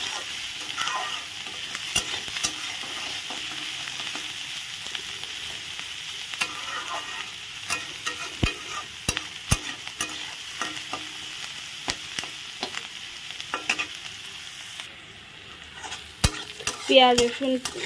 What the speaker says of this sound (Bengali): এখন ভালো করে নেড়ে চেড়ে নেব।